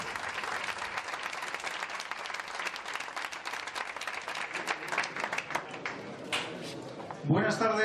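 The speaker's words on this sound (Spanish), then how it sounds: "Aplauso." Applause from the audience at the Real Madrid presentation of coach Julen Lopetegui, steady dense clapping that fills the room for several seconds before a voice starts speaking near the end.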